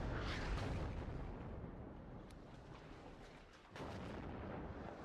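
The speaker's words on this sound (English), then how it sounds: "More 52mm howitzers getting involved" Howitzer artillery fire from 52mm guns in the strategy game WARNo, a faint, continuous rumbling barrage of overlapping distant blasts with no pauses.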